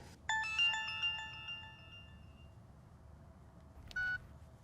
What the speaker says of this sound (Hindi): फोन नहीं लग रहा है, नहीं उठा रहा है वो फोन